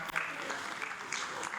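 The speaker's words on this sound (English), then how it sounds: "Please, another round of applause for Reverend Fada John Oluoma." Brief burst of applause from a conference crowd, a dense wash of clapping heard at a distance for under two seconds.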